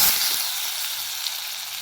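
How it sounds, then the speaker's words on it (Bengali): Potatoes fry in hot oil in a wok, giving a steady, close hiss and sizzle with no voices throughout. "আলুগুলো ভালোভাবে ভেজে নেব"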